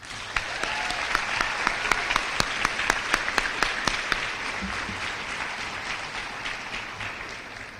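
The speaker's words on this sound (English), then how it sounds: "Give them a huge round of applause." An audience at an eighth-grade graduation applauds its teachers, a steady bed of clapping with a run of crisp, prominent claps early on that fades into softer, continuous applause.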